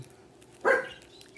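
A single short dog bark from another room, moderately loud against a quiet background.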